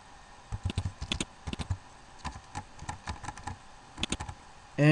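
Keystrokes on a computer keyboard while writing style code for a web tutorial, irregular clusters of crisp clicks with short pauses, close and clear with no talking.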